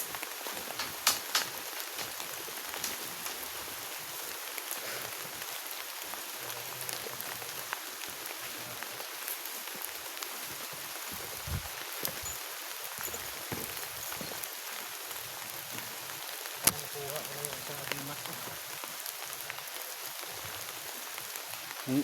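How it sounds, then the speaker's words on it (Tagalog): A soft, constant hiss of heavy rain in a video game runs throughout, with occasional faint ticks and drips; steady and even, no talking. "Masyadong lakas ng ulan."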